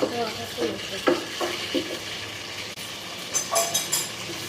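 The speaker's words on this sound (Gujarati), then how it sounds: "હવે વાટીદારના ખમણ માટે વઘાર કરીશું" Chillies hit hot oil in a kadai while tempering for khaman, a close crackling sizzle with scraping stirs and a few clinks of the spoon.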